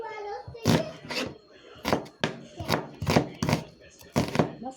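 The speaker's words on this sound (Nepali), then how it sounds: "प्याज काट्दैछु।" A knife chops onions on a cutting board in about eight firm, evenly spaced thunks, close and clear, with a faint voice at the very start.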